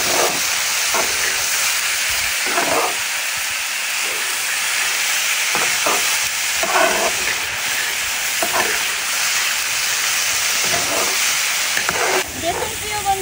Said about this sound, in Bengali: তো এবার আমি খুব ভালো মতো নেড়ে নিচ্ছি।